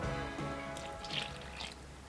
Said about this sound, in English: And then add the water and the yeast with the sugar.